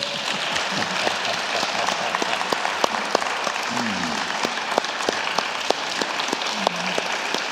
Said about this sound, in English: Will you give a round of applause to our panel?